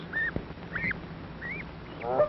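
Two-week-old goslings with adult geese at feeding time, in an old 1937 poultry recording: several short, rising nasal peeps and honks spaced across a couple of seconds over a soft background hiss, fairly close.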